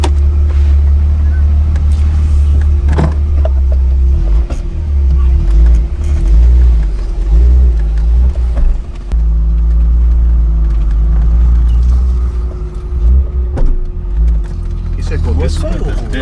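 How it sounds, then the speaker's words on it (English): A 1978 Datsun 280Z with a 5-speed drives with a steady low engine drone and road rumble while people talk, with occasional knocking clunks from the differential underneath. "The clunking? Yeah. Is that the diff? That does sound like the diff."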